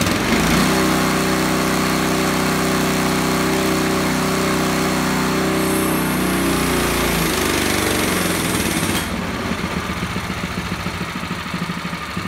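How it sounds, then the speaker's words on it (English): A $99 Predator 212 cc small single-cylinder engine runs steadily on a dyno with a loud, buzzing drone, then its pitch drops and the note changes as the load and speed shift near the end. "watching a small engine on a dyno is somewhat boring"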